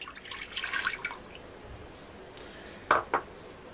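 Water poured into a bowl for making dough, soft trickling and splashing followed by two short, distinct splashes near the end, quiet and close.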